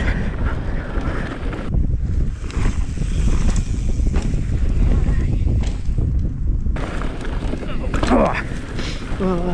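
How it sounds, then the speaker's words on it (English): Strong gusting wind roars across the microphone throughout a downhill mountain bike ride on a hillside track near Adelaide, a steady loud buffeting with brief lulls, while riders talk over it. "It's so windy."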